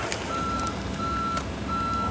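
A heavy excavator's reversing alarm beeps three times in steady, evenly spaced tones during recovery of an overturned Puso Engkel truck from a ravine at Batu Jomba, over a constant rumble of engine noise.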